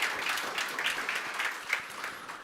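A modest audience at the BSides Munich 2022 security conference applauds a speaker. The clapping is fairly quiet and close, with individual claps audible and the sound thinning out toward the end.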